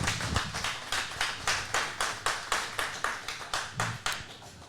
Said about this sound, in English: Clap it up for Chris.